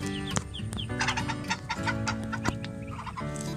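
Newly hatched free-range ducklings that have just come down from their nest peep in a busy, overlapping chorus of high chirps, close and continuous.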